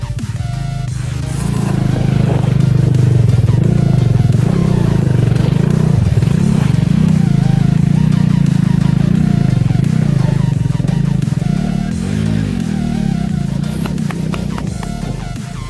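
Off-road motorcycle on an extreme trail at Urumbikkara, Kerala, its engine droning loud and steady with a low rumble that rises and falls, mixed with clatter and a voice speaking over it.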